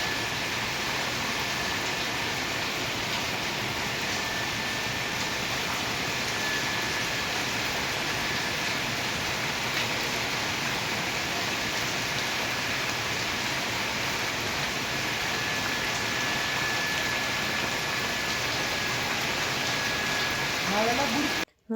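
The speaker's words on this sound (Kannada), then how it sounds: "ಎಷ್ಟು ಮಳೆ ಹುಯ್ತಾ ಇದೆ ಅಂತ ಹೇಳ್ಬಿಟ್ಟು ಇಷ್ಟೇ ಜೋರಾಗಿ ಹುಯ್ತಾ ಇದೆ" Heavy rain comes down hard and continuously, a loud, unbroken wash of noise close around the listener during a walk, ending abruptly.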